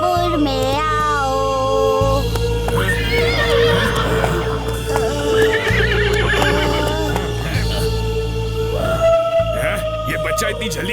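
A cartoon horse neighs loudly several times with shrill, wavering whinnies over a busy animated soundtrack of music and effects, with a character's voice also heard.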